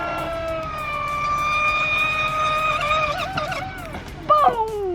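A Pro Boat Impulse 32-inch brushless RC speed boat runs at full throttle, its high, steady motor whine holding and then wavering before a sharp splash-like burst near the end.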